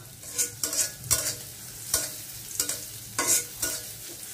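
Onions, green chillies and prawns stirred in a frying pan, with a spoon scraping in several irregular bursts over a soft continuous sizzle, close up and with no voices.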